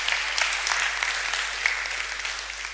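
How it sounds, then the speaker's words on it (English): An audience at a music-learning conference applauds a volunteer who has just played a keyboard, a steady, moderately loud spread of clapping under a faint low hum. "Give her a round of applause."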